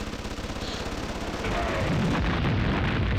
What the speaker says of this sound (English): Yeah, we have an airstrike.